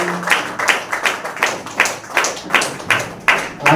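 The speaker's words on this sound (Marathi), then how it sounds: "सर्वांच्या एक जोरदार टाळ्या स्वागत झालंच पाहिजे." Loud applause from an audience at a felicitation ceremony in Karmala, steady rhythmic clapping with sharp bursts that keeps going the whole time, close and dense, with no talking.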